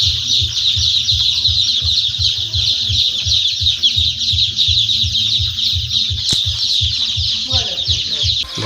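A crowd of day-old laying-hen chicks chirps continuously in a dense, high-pitched chorus, with a steady low rhythmic hum or pulsing underneath and a brief knock partway through.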